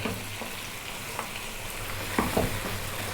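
Lamb frying in a pan over medium heat, a continuous soft sizzle with light scrapes and a couple of brief stirring knocks toward the end, no voices.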